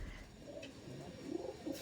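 Pigeons of Madrasi and Malbari breeds coo softly in a few low, throaty bursts, faint and close against quiet background noise.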